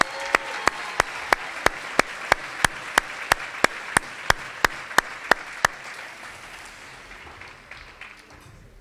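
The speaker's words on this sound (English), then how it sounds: "Give yourselves a big round of applause." Rhythmic unison clapping from an audience at a union address, about sixteen sharp evenly spaced claps over a bed of scattered applause that fades out toward the end.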